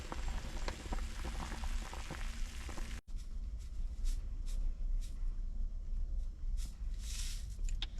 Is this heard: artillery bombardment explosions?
no